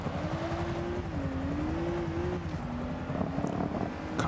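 A Rolls-Royce Wraith in Forza Motorsport 5 cruises through a victory lap, its engine holding a steady, smooth drone that rises and dips gently with throttle, with a slight shift in pitch near the end and wind noise throughout.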